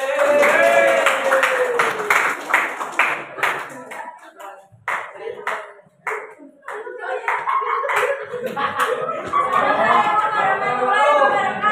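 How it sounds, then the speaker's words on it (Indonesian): A school class claps for a group of students in a classroom. A teacher speaks first, then a burst of many hands applauding builds to a loud, dense patter by the end. "silakan tepuk tangan buat kelompoknya."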